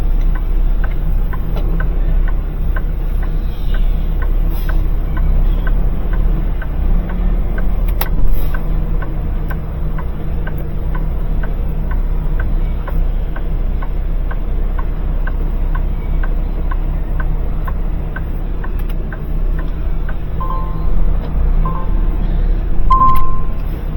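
A rental truck's engine idles loudly and steadily with a deep low rumble, joined by a regular light ticking throughout.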